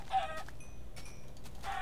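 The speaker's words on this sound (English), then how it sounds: "Some chickens." Chickens clucking in the video game Minecraft, a few short clucks close by with a steady low background hum, no talking.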